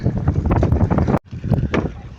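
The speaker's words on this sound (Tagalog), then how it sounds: "malakas yung hangin at ulan" Strong wind and rain buffeting a fishing boat at sea, loud gusty roar with microphone rumble that cuts out briefly midway then returns.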